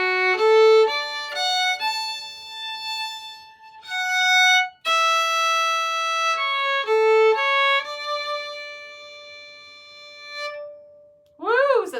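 A single melodic instrument plays a slow, legato phrase of an American waltz tune, with clear sustained notes and brief gaps between them, heard alone with no talking.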